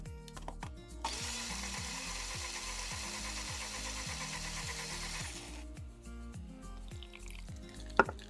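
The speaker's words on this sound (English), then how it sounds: "I am going to put it in my blender with some water, blend it up" A blender whirs while blending fruit with water for kombucha juice, a steady motor drone lasting several seconds between quieter stretches of knocking and handling noises.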